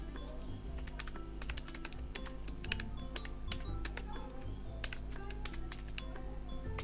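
Steady, close keystrokes clatter on a computer keyboard as text is typed into a code editor, with quick irregular clicks continuing throughout over a low background hum.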